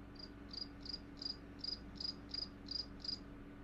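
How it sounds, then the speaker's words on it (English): A single cricket chirps in a classroom, giving about nine evenly spaced, high, bright trills over a quiet, low room hum, with no voices. "Oh, it's a dumb cricket."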